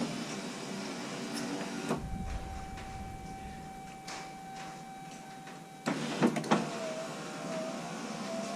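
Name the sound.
Chevrolet Silverado power window running up and down after greasing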